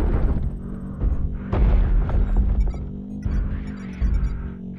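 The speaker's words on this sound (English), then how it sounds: "Artillery strike online." Artillery strike explosions in a video game land as a string of deep, booming blasts with rumbling tails, several heavy impacts packed close together and loud against faint background sound.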